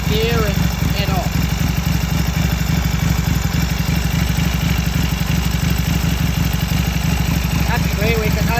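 A 1934 Indian Standard Scout motorcycle engine idles steadily while warming up, a continuous low throbbing rumble with fine clatter, loud and close throughout with no break.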